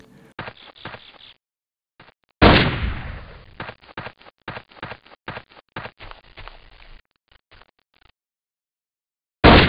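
Repeated gunshots blast at loose shed planks in the video game Jurassic Park Trespasser, with one heavy echoing report followed by a rapid, irregular string of sharp shots, then silence and a final loud burst.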